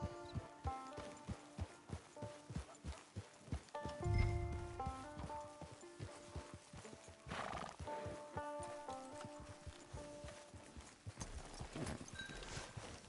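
A horse in the video game Red Dead Online trots with steady clip-clop hoofbeats, gives a loud neighing whinny early on, then keeps plodding along with snorts under a soft ambient backdrop.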